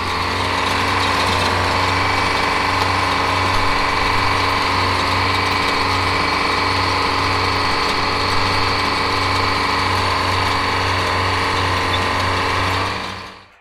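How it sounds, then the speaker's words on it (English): A wheel trencher's engine runs steadily while digging a drain tile ditch in a farm field in southeast Darke County, Ohio, a loud continuous drone with a constant mechanical whine and no pauses, cutting off at the end. "Oftentimes the main tiles are put in with a wheel trencher like you see here"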